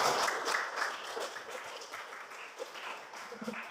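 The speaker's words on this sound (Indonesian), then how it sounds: "Jadi kita kasih aplaus dulu untuk kelompok 1 kami." A classroom group applauds a presenting group of students with a burst of many hands clapping, loudest at the start and then thinning out over a few seconds.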